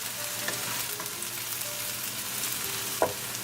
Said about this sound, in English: Cooking our onion for 4 minutes. They are nicely transparent.